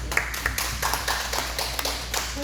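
Scattered claps from a small church audience at a humanities lecture, sparse and uneven rather than a full ovation, with a steady low hum underneath.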